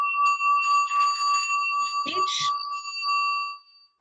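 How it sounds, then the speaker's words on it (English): A metal singing bowl rings with a sustained, clear tone and bright overtones for about three and a half seconds, briefly disturbed by a soft knock midway, then fades out near the end. "You ring the bell and then you go like this."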